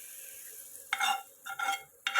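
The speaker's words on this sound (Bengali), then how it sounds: "ফোড়নটা এবার ঢেলে দেব" Hot spice tempering poured into a bowl of ground peanut chutney gives short sizzling bursts, three separate crackles over a low kitchen hush, near and fairly quiet.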